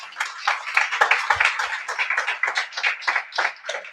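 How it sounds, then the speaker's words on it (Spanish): A church congregation claps in a lively, uneven burst, individual hand claps close and distinct at first, then blending into a rhythmic patter that continues throughout. "dale un aplauso a Dios."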